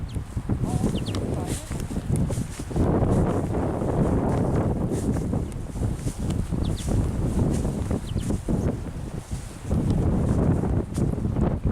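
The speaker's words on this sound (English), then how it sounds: "Very windy though." Strong outdoor wind buffeting the microphone near water with seagulls and ducks under a grey sky, a constant loud rumbling roar that swells and eases in gusts, with no speech heard.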